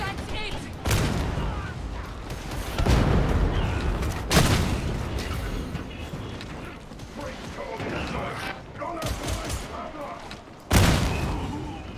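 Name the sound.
gunfire in Warhammer 40,000 Darktide video game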